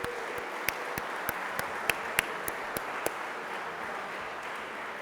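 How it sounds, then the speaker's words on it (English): Faint, distant applause in a large room at a college hall of fame event, with a steady wash of clapping and a few sharper, closer claps standing out. "Please just give them a round of applause."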